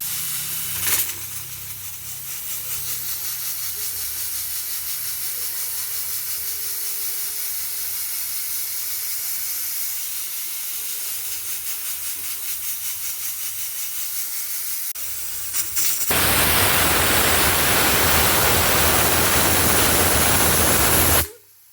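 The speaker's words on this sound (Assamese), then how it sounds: "এটা চিটি হৈ গ'ল আমাৰ।" A pressure cooker on a gas stove releases steam in a continuous loud hiss that starts after a steady rush and grows into a harsh, full blast near the end before cutting off.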